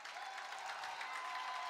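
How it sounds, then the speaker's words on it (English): A distant crowd at a Kaukauna versus Neenah high school football game, faint steady clapping and cheering that hold evenly across the moment without speech. "And the crowd goes wild."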